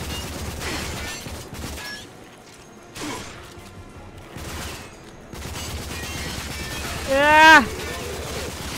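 Enemy gunfire in the shooter game RAGE, bursts of shots and impacts scattered through the clip, with a sharp cry near the end and a brief gap of quiet in the middle.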